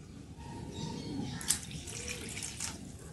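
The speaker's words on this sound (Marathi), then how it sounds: "त्यासाठी आपण 2 वाट्या पाणी टाकून घेऊया" Water is poured from a bowl into a pot of toor dal, a soft continuous splashing and trickling under faint kitchen background noise, with a few brief louder drips and splashes.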